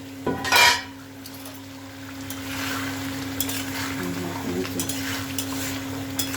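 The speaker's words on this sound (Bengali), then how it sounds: "দেখুন বন্ধুরা আমি এখন ঢাকনাটা খুলছি, চিকেনটা কি পর্যায়ে আছে দেখা যাক।" A metal lid is lifted off a pot of shahi chicken with a brief clank near the start, followed by a soft, continuous simmering sizzle and light utensil clinks, with no talk.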